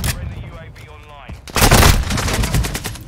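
TAQ V rifle firing in Modern Warfare II, quiet for about a second and a half, then a loud sustained burst of rapid gunfire that carries on to the end.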